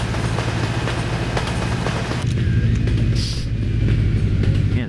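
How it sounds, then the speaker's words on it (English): A loud train thunders past a level crossing in Euro Truck Simulator 2, a heavy, continuous low rumble and clatter that holds strong throughout with a brief hissing burst midway. No talking. "Yeah, the trains are always mega loud."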